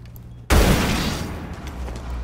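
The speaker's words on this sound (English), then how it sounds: "Tossing EMP grenade." An EMP grenade detonates in a tactical shooter game as Thatcher: a sudden loud burst after a quiet moment, then a dense rumbling hiss that lingers and slowly fades.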